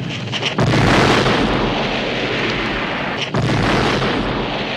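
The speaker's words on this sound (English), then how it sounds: "The dynamite explosion was a lot bigger than expected and knocks him back." A dynamite blast from the 1982 film The Thing erupts as a heavy, sustained roar of rumbling noise, with a second surge of the blast a few seconds later.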